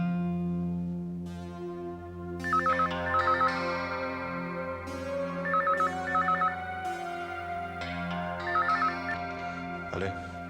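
A telephone rings as a call is placed, sounding three bursts of an electronic ringtone over a sustained musical background, fairly clear and steady in rhythm.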